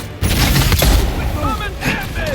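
Gunfire during a headshot in the video game Avowed: a loud, sharp burst opening the moment, with booming shots and a second hit shortly after, amid dense game effects.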